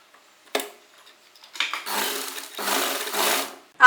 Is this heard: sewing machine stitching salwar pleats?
yes